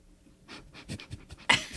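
A person makes a rapid series of short, breathy huffing sounds imitating a rabbit, ending in a louder sharp puff.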